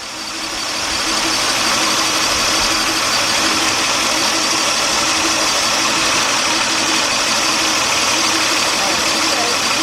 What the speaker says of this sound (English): Notice how that noise sounds just like an engine knock.